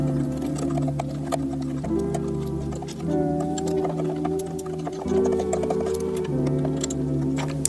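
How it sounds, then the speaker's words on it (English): A bolt is removed from a Triumph Tiger 900 with a ratchet and extension, giving a steady run of close, rapid mechanical clicks and whirring with tonal hum, pausing and restarting several times, with no talking. "And then we're just gonna remove this bolt here."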